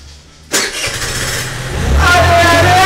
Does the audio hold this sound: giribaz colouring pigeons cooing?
no